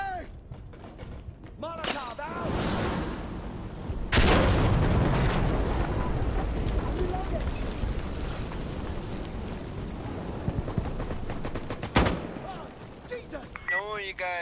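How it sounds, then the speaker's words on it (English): A frag grenade explodes in Insurgency Sandstorm, a military shooter game, as a sudden heavy boom that rolls into a sustained rumble. Talk and gameplay noise run before and around it. "I'm throwing a frag!"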